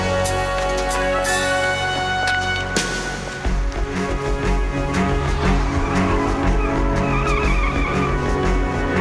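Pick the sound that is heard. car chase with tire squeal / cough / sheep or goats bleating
car chase with tire squeal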